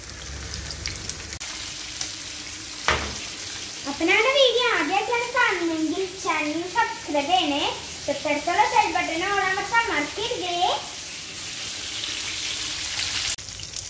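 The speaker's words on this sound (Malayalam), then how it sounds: "നമുക്ക് ഈ മത്തീനെ ഒന്ന് ഇട്ട് കൊടുത്തിട്ട് ഫ്രൈ ചെയ്തെടുക്കാം" Sardines frying in a pan, a steady close sizzle and crackle running throughout, with a person talking over it for much of the time.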